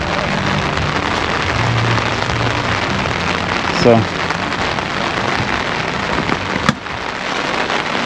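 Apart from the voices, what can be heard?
rain falling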